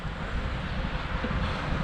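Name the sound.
wind blowing during bike ride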